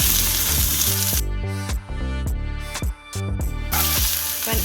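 Onion frying in a pan, with a steady sizzle at the start and end broken by a few brief clanks and pops in the middle, close and fairly loud.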